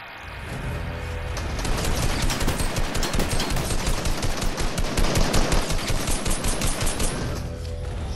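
Rapid gunfire from a shooter video game, a dense run of automatic bursts that swells in the middle and fades near the end, loud and close, with no talk over it.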